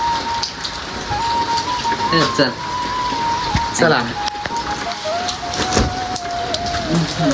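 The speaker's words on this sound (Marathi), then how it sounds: "रात्रीपासून पाऊस सुरू आहे" Steady rain falls on a village in Maharashtra, a constant broadband hiss running the whole stretch, with a person speaking over it and a faint tonal hum in the background.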